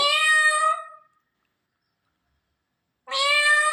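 A parrot imitates a cat's meow twice, a clear nasal call followed by silence and then a second meow.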